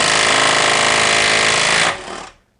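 A Milwaukee stubby impact wrench fitted with a 3-inch extension hammers loudly and continuously on a bolt for about two seconds, then winds down abruptly and stops as the bolt breaks free.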